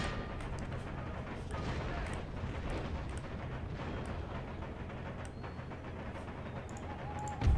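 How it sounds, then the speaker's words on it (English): Artillery fire rumbles in a battle in the Empire Total War strategy game, a steady loud wash of distant cannon booms and crackling volleys with no one talking. "walk within range of this artillery unit though"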